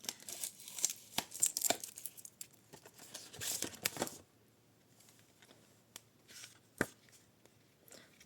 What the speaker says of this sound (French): Désolée, j'enlève le scotch.